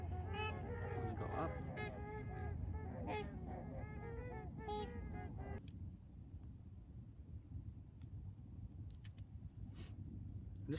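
A large flock of about thirty swans on a frozen lake during ice fishing, calling in overlapping honks that fill the first half, then thinning to sparse distant calls over faint wind.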